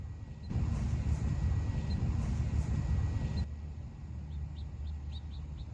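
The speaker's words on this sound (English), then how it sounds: "I think the birds want to talk to me." Faint bird chirps sound at a cemetery, brief high calls scattered over steady outdoor noise and a passing low rumble, with a few quick peeps clustered near the end.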